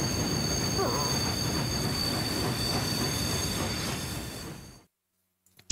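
A train in the video game Party Animals rumbles along with squealing wheels and a thin metallic whine, fairly loud, then cuts abruptly to near silence near the end.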